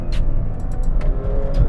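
A 2019 Ferrari 812 Superfast V12 roars loud and close from the driver's seat as it pulls and shifts gears, with a heavy, continuous engine drone and short bright bursts marking the shifts.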